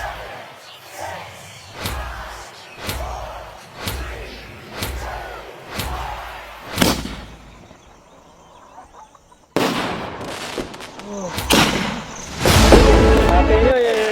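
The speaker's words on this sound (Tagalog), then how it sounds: "Ito yung sakalam na fireworks." New Year fireworks burst one after another in a steady series of sharp, loud bangs, followed by a brief lull and then a denser, louder volley, with people shouting close by.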